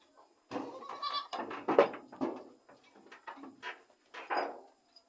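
A goat bleats several times in close, fairly faint calls with short pauses between them, mixed with a few knocks and rustles.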